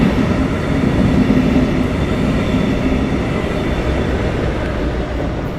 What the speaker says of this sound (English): That's a high-speed rail train going from here to Fort Lauderdale.